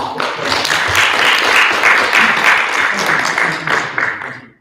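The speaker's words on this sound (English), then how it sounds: "Could everyone please give a round of applause?" A workshop audience at a university business society event breaks into applause, a dense, loud, sustained clapping that swells and then tapers off near the end.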